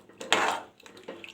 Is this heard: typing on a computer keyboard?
no